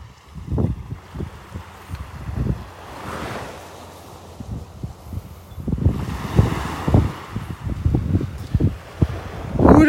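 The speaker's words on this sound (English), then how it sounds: "Ooh, that wind is ferocious." Strong, gusty wind roars and buffets the microphone on a North Naples, Florida beach, with surf washing in behind it in uneven pulses, loud and close with no talk.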